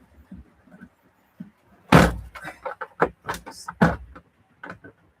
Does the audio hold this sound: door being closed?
yes